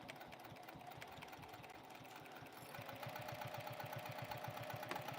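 A Juki sewing machine runs a steady stitching pass at close range, its rapid mechanical chatter continuous throughout and growing slightly louder partway through.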